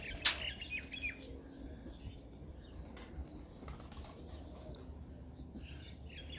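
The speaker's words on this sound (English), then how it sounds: "Just let out some of these birds out." Pigeons released from cages for an Eid flight flap their wings in bursts and give scattered squawks and coos, fairly faint and outdoors with no talking.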